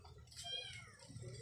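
A caged pet cat named Sleepy, kept at a small shop, gives a short, faint meow against a quiet background.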